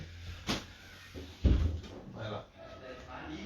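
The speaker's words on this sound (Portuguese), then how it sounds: "Deixa eu abrir uma porta aqui só para um gato sair e o outro entrar." A door is opened indoors to let cats in and out, giving a couple of sharp knocks and a louder thud mid-clip, with someone talking over the noise.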